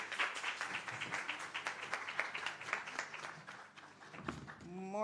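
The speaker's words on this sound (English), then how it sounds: "May I have a round of applause for her" Applause from the audience at a records management month launch and off-boarding ceremony in Jamaica, a dense steady patter of clapping that thins toward the end before a voice comes in.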